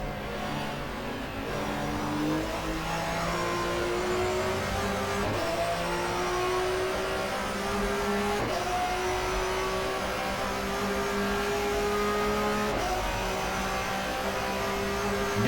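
A touring car engine in the GTR2 racing game, 1994 German Touring Car Cup at the Nürburgring, revs hard and climbs through the gears, with pitch rising then dropping at each shift in a steady, loud drone.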